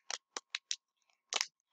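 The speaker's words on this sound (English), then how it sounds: "And I need these scissors." Scissors snip through packaging while Pokémon cards are being unboxed: four quick, crisp cuts in a steady rhythm, a pause, then a longer double snip and one more cut, close and clear in an otherwise quiet room.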